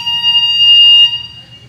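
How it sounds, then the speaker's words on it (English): A fire alarm going off during a test, a loud, close, steady high-pitched electronic tone that sounds continuously and then fades. "Sounds like a fire alarm here."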